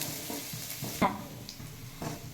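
Crushed garlic frying in oil in a pan, a steady close sizzle broken by occasional scrapes and taps of a stirring spoon.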